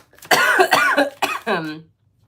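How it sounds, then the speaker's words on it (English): A person coughs several times in quick succession, close and loud, ending with a rough throat-clearing rasp. "My apologies for coughing right now."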